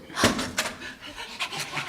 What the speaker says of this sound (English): Oh my God! Are those puppies?